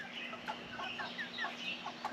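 Chickens and a rooster cluck in a busy flock, short repeated calls overlapping at a moderate distance, fairly faint against a quiet hum, with no talk.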